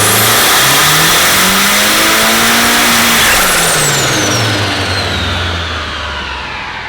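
A turbocharged rear-wheel-drive Honda Civic engine revs hard under boost, loud and close, its pitch climbing in a long sweep with a high turbo whine over it, then easing off as the sound fades slightly.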